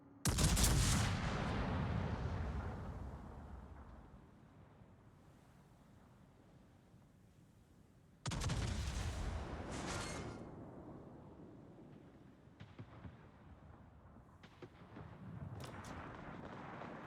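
Ships fire their big naval guns in World of Warships, with two heavy booming salvos several seconds apart, each rumbling away slowly, followed by fainter distant shots and steady wind noise.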